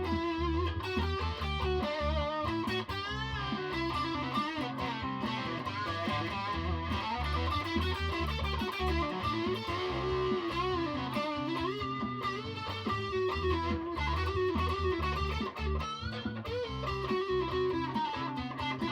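An FGN Japanese electric guitar plays with the distortion switched on, giving a loud, dense and continuous overdriven tone that fills the whole stretch with no voices heard.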